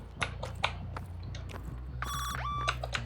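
Short electronic notification chime from a video game, a bright ascending tone sequence rising over layered game effects and faint background rumble.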